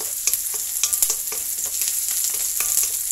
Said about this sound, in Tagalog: Pag nag-brown na, ilagay na natin yung ipon or shrimp, guys.